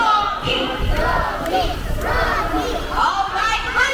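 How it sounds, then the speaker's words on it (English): A crowd of children and adults at a bird show at Manila Ocean Park cheers and chants a rhythmic repeated shout, loud and continuous, with an announcer's voice over the noise. "All the girls will cheer for Sassy."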